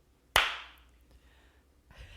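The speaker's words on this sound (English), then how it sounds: "I got to clap again." A single sharp hand clap rings out loud and close, its bright decay trailing off over about half a second, followed by a quieter scuff near the end, set during a season finale show.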